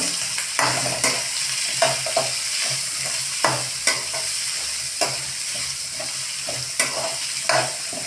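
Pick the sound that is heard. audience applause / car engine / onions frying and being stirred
onions frying and being stirred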